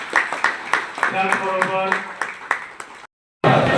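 An audience claps in a steady rhythm at a municipal council felicitation ceremony in Sangola, held for the council president and councillors, while someone speaks over the clapping. The claps stop briefly near the end.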